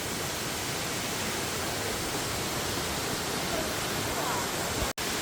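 Jeolgu Falls on Juwangsan in autumn roars steadily, a dense, even hiss of rushing water that fills the scene, broken only by a momentary cut near the end.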